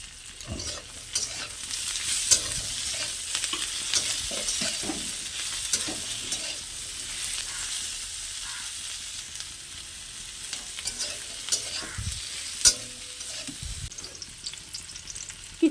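Chopped onions and a tomato frying and being stirred in hot oil, a continuous soft sizzle with repeated scraping strokes and occasional clinks throughout, no voices.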